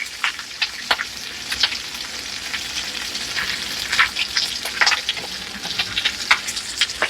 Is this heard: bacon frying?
yes